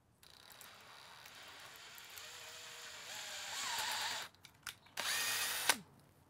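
A drill bores a quarter-inch hole through plastic on a pan-tilt camera rig, a steady rising whine that builds in pitch for about four seconds, then stops and starts in short bursts before a final loud spurt.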